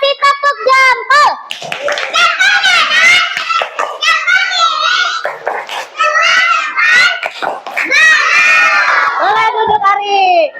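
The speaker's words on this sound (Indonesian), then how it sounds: "Oke, boleh kasih tepuk tangan." Young children in a classroom clap and cheer loudly, their excited high-pitched shouts and voices overlapping the rapid clapping throughout.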